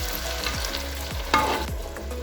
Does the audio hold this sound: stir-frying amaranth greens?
yes